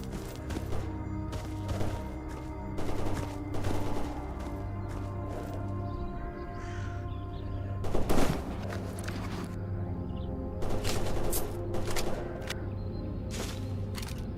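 Gunfire in the video game Stalker Anomaly: a run of sharp broadband shots spaced across the stretch, some in quick bursts, loud and close over a steady low ambient hum.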